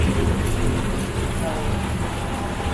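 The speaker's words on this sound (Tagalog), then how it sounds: "Kung naririnig nyo, ayan oh, lakas ng kalabog ng sa bubong ng ulan" Dense, continuous roar of heavy rain drumming on the roof of a computer shop, loud and unbroken throughout.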